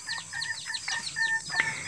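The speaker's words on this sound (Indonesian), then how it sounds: "ayamnya sudah mulai belajar-belajar kokok seperti ini ya sobatku" A young rooster gives short, broken, wavering crowing attempts, several in a row, fairly close, with faint background noise.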